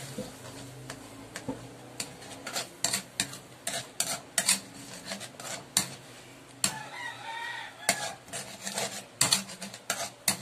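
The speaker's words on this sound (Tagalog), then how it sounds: "Kailangan paglagay po ng cornstarch, haluin agad para hindi mamuo yung flour." A spoon stirs cornstarch into a thickening sauce in a pan with irregular scraping strokes, close and moderately loud, while a rooster crows and hens cluck in the background.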